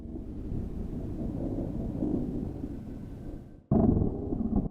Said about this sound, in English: So I put thunder sound, kind of emphasize that atmosphere.